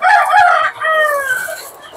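Hens and a rooster in a farm coop give a loud, close, drawn-out crowing call with clucking underneath, alone without speech.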